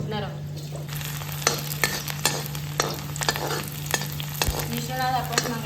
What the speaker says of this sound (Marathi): की हे सगळं मिश्रण आपण कढईत ओतणार आहोत.